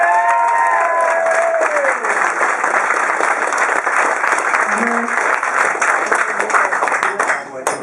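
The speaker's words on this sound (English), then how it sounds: "So, a round of applause for the crew." Audience applauds the venue crew after a spoken-word reading, dense sustained clapping with some cheering, loud and steady throughout and easing slightly at the end.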